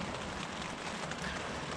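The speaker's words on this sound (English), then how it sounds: "I've woken up to a little bit of wind and rain on the tent" Wind and light rain patter steadily against a camping tent on Salt Spring Island in March, a dense, even hiss of drops close by with a low gusty rumble underneath, no voices.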